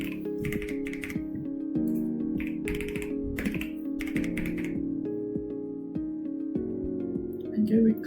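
Key taps on a computer keyboard as a wallet recovery phrase is entered, scattered soft clicks under a steady musical drone with some faint talking.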